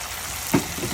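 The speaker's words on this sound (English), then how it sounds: "Alright, now that these are nice and warm, I'm gonna add these onions in." Onions added to a warm pan for shrimp tacos sizzle and fry steadily, with a brief louder burst of sizzling as they hit the pan midway, close and alone with no talk.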